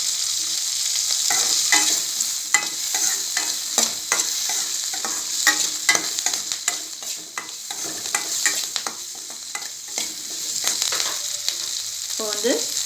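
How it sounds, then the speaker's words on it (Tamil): Curry leaves fry in hot oil for a bitter gourd kulambu, with a steady close sizzle and crackle under scattered stirring clinks and scrapes. "இது கூட வந்து கருவேப்பிலை ஆட் பண்ணிக்கிறேன்."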